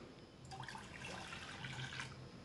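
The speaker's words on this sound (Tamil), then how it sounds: "அதில் 2 கப்லேருந்து 3 கப் அளவுக்கு நம்ம தண்ணி சேர்த்துக்கலாம்." Water poured from a vessel into tamarind extract for a brinjal kuzhambu, a short, soft splashing pour that swells and settles over about two seconds in a quiet kitchen.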